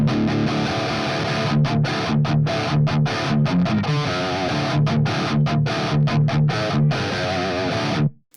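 A heavily distorted electric guitar through an amp plays chugging, choppy palm-muted riffs with sharp stops between bursts, loud and upfront for several seconds before cutting off.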